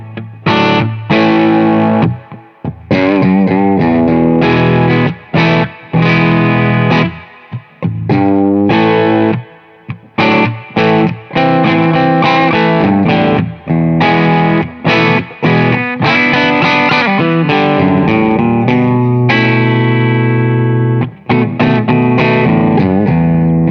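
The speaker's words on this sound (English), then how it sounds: "Let's crank it up a bit and see if we can get a bit of" Electric guitar played with cranked gain through a Victory DP40 amplifier, a dense distorted tone with chords and single notes, loud and continuous with short gaps and a touch of reverb, no talking.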